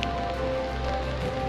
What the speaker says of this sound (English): Yeah, still raining.